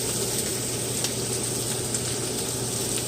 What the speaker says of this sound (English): Just saute those down.